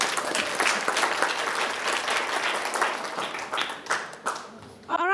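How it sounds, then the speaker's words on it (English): A large audience at a youth summit in Istanbul applauds loudly and continuously for several seconds, with some voices mixed in before the clapping tails off. "Give a big applause."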